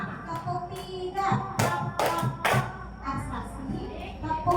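A class of children claps along in a teacher-led chant game, several crisp clustered claps punctuating rhythmic group chanting and chatter in a fairly close, lively room.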